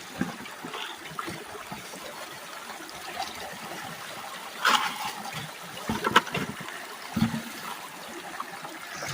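Water and sand sloshing through a gold sluice fed by an auto-feeder bucket, a steady wet wash with a few louder splashes and gurgles standing out near the middle and end.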